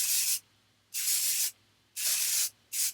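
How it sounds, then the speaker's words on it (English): Aerosol texture spray misting onto fine hair in four short hissing bursts, each about half a second long, close and fairly loud, with quiet gaps between them. "that feels more like a hairspray"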